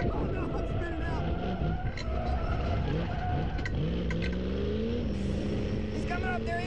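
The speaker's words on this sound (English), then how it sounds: "Oh, no, I'm spinning out." A 1969 race car spins out with its engine revving and tires scrubbing, a continuous loud roar with rising and falling engine pitch, and people talk over it throughout.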